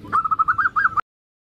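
A zebra dove's rapid series of soft, tonal coos, about nine pulses in quick rhythm, close and clear, then abrupt silence.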